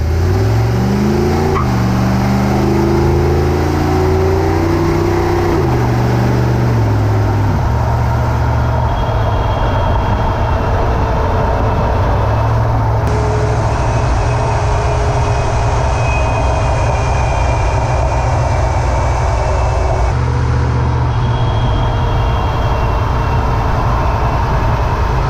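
A car drives on the road after a differential fluid change with limited-slip additive. A low engine note rises briefly at the start, then gives way to a steady, droning road and drivetrain rumble that runs throughout.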